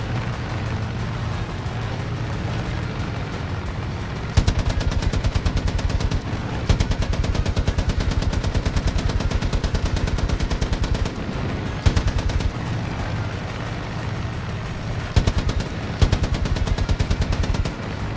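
Sustained rapid-fire machine gun bursts in the video game Far Cry 5, loud and continuous, with brief gaps between volleys and a steady rumbling background.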